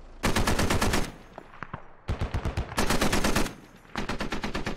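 A .50 cal machine gun firing in the Squad Ops game, close and loud, in several sustained bursts of rapid shots with short pauses between them.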